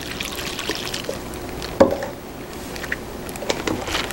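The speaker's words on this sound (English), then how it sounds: "Open the vinegar, pour some into the baggie." Vinegar poured into a plastic baggie for a baking soda chemical reaction, a soft liquid trickle with a sharp clunk partway through and light handling noises afterward.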